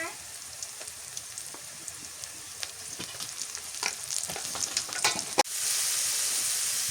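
Garlic paste and onion paste frying in oil during home cooking, a soft continuous sizzle with scattered pops and stirring scrapes, then a louder hiss near the end.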